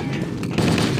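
Halo Combat Evolved gunfire crackles in a rapid burst of automatic shots, loud and close, with a soft voice briefly underneath.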